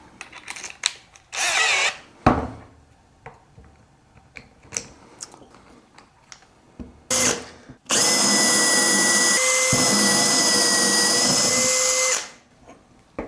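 Power drill boring into wood for a floating console table with a depth-stop collar on the bit, heard as a few short bursts and then a steady, loud whining run of about four seconds that stops abruptly.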